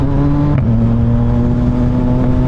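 A CF Moto 675NK motorcycle holds a steady, loud engine drone with a quick upshift that drops the pitch partway through, then keeps pulling smoothly without a break.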